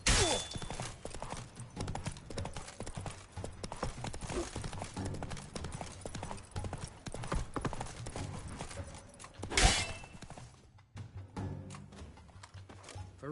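Horse hooves in Witcher 3: Blood and Wine, a steady rapid clip-clop of a galloping horse heard close and continuous, with a brief louder burst near the end and faint game ambience beneath.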